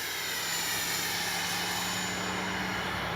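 An FMS Integral 80mm RC jet with AS3X+ roars steadily as it takes off with flaps set, a loud, continuous turbine-like whine with broadband rush that holds even throughout.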